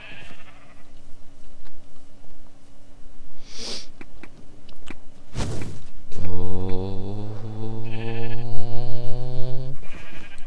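Sheep bleating in the Minecraft video game: a few short breathy sounds, then one long, loud, strongly voiced bleat near the listener with a wavering, stepped pitch.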